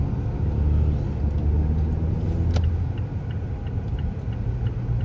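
A car drives through traffic in the passing lane, heard from inside as a steady low road rumble and engine drone with a brief sharp click partway through.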